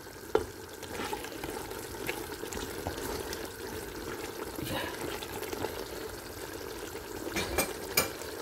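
Chicken masala with coriander and green chillies stirred in a pan, a soft steady wet scraping and sizzle with a few louder clinks of a spoon, close and quiet.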